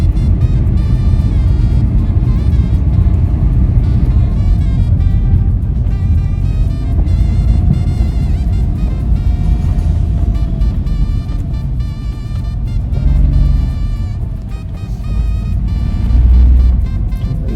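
A car drives through a fairly empty parking lot before parking, its steady low engine and road rumble filling the cabin, loud and continuous with slight swells near the end.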